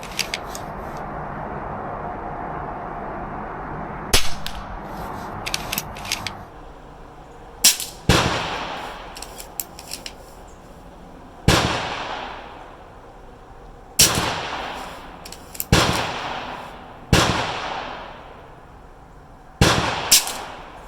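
Umarex Zelos PCP air rifle firing 18-grain H&N Barracuda pellets: seven sharp, loud cracks spaced a few seconds apart, each with a short decaying tail over faint background noise.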